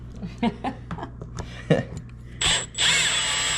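A power drill removing bass guitar pickguard screws whirs in two short high-pitched bursts near the end, after a series of clicks and handling knocks.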